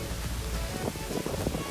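Dense, steady hiss of heavy rain pouring down in Makati City, with a constant wash of noise and scattered splashes.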